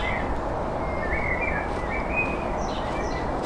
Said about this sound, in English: Fabulous blackbird though.